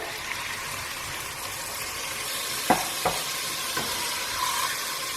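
Water is poured into a pan of frying pepper chicken, giving a steady sizzling hiss with a few stirring knocks and clinks, close and with no voices.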